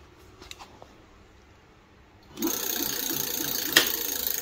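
An ENGWE L20 electric bike's motor spins up under throttle, a steady whirring hum starting abruptly after a few quiet seconds of faint clicks, with a brief rattle partway through.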